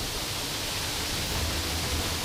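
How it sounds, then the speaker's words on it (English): Steady broadband rush of McLaren Falls waterfall in native New Zealand forest, a constant close roar of falling water with no breaks or other sounds. "Look at that waterfall over there"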